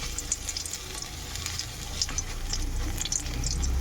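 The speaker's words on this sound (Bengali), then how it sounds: "গোল গোল করে আমি এই কড়াতে তেলে বসিয়ে দিলাম।" Drumstick flower fritters (sojne phuler bora) dropped into hot oil in a kadai, giving a steady close sizzle with crackling pops that grows slightly louder toward the end, with no talking.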